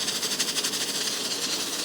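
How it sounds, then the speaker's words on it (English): A pressure cooker simmering beef stew comes up to pressure, giving a steady, fairly loud steam hiss with a faint rapid pulsing from the rocking weight on the lid. "You can see it's starting to come to pressure because the little weight is starting to move. A little bit of steam is dripping out onto the lid."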